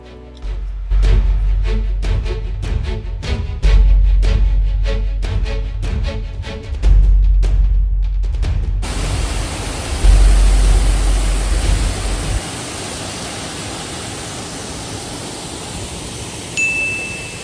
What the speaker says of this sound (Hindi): so this is the waterfall